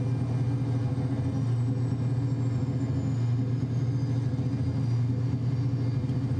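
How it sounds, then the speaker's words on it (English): A truck engine in American Truck Simulator sits on the rev limiter, a loud, steady, droning rumble with a rapid pulsing flutter that holds without a break. "hitting the rev limiter"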